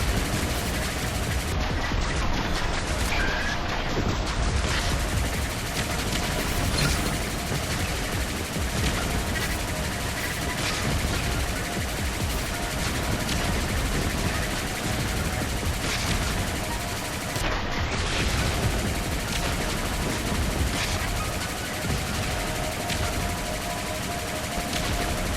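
Sci-fi gunfire crackles in the VR shooter Galactic Rangers VR, with rapid bursts of shots repeating over a busy background of game sounds.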